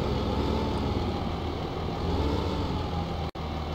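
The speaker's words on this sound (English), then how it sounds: "So if I take the tractor here," Tractor engine in Farming Simulator 15, a steady low droning rumble running continuously at even loudness, broken only by a sharp momentary dropout near the end.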